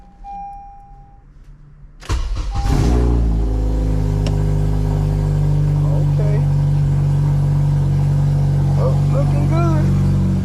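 A 2012–2015 ninth-generation Honda Civic Si engine cranks and fires up after a transmission installation, jumping from quiet into a loud, steady idle that settles into a continuous close rumble.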